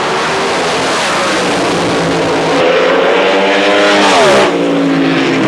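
Loud, steady roar of super stock jet cars held at high revs on the line at an ANDRA drag race, a dense broadband blast with a rising whine that sweeps up and then drops near the end.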